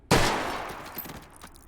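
A single sharp shot from a Madsen LAR rifle in the VR game H3VR bursts out loud and close, then a long rolling echo fades away with a few fainter trailing thumps.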